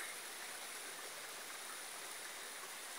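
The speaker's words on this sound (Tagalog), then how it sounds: "ito po guys yung Gisawan Falls sa Nangaan" Gisawan Falls in Nangaan, Old Kabakan, pours down as a steady, dense roar of cascading water, even and unbroken, with no voices.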